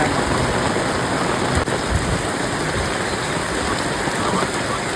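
Rain falling steadily in a village in Botad, a constant dense hiss of drops on surfaces with no pauses, close and evenly loud.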